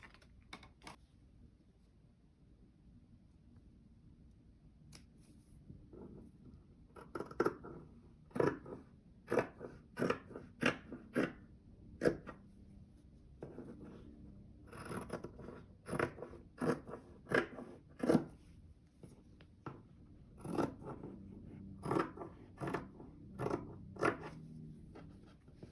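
Scissors cut an X through fabric and a picture frame mat, sparse crunchy snips at first, then clusters of sharp close cuts separated by short quiet gaps, with no one talking.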